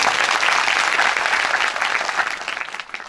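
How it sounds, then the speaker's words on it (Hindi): A crowd at a community event gives the local journalists loud, dense, continuous applause that holds steady and then thins slightly toward the end. "इन सबके लिए जोरदार ताली बजाते हैं"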